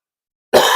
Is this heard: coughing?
yes